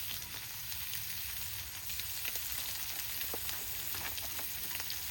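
Chicken sizzles and fries in olive oil in a pan, a steady, faint crackling hiss with scattered small pops throughout and no talking.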